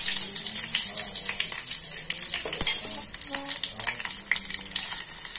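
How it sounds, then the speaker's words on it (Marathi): Cumin seeds and green chillies sizzle in hot oil for a Maharashtrian kokum saar, a steady close crackling hiss running throughout with faint stirring clinks. "आता जिरं आणि मिरची मी घालते आहे."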